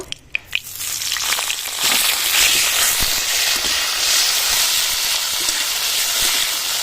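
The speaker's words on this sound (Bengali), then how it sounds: "ফুলকপিগুলো ভেজে নেব" Cauliflower florets drop into hot oil with a few sharp taps, then a loud, continuous crackling sizzle builds and holds steady, close by.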